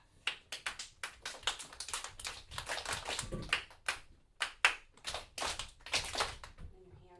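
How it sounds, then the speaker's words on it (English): Students in a classroom clapping their hands, a long string of sharp claps in quick irregular pairs, close and crisp, with faint voices underneath. "when I need your attention, I'll do a double clap"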